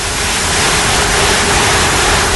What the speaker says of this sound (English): water simulating rainfall of 28 inches per hour, or a 1 in a billion storm, poured through the blades